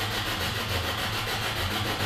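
A motorcycle engine runs steadily and fairly loud, a continuous low rumble with a rough rasping edge, no voices over it.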